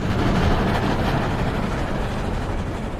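Continuous heavy rumble of an armored train rolling along rails, loud and dense from start to finish with a low, grinding mechanical roar and no voices.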